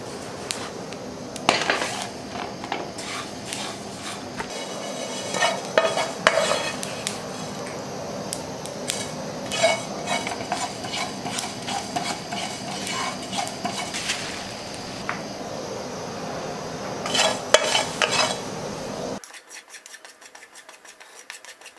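Red sesame seeds roast in a pan while being stirred, producing continuous close dry scraping and rasping with light metallic clinks, then the sound drops away to near silence at the end.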